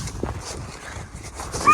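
Dogs in a village bark a few short, muffled times at a middle distance, with faint whimpering yips under a low outdoor background.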